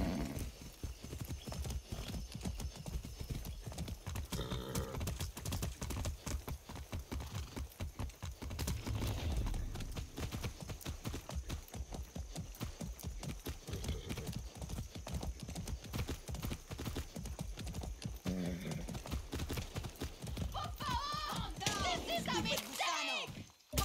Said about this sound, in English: That's a good horse.